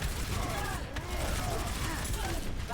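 Rapid bursts of gunfire in the Overwatch video game during a tank duo match as Sigma, a dense rattling fusillade running throughout under game voice lines and player chatter.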